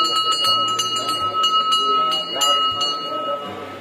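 Temple bells at Dhari Devi Mandir ring out with repeated metallic strikes and long, sustained shimmering tones, loud and close. A low murmur of voices sits underneath the ringing.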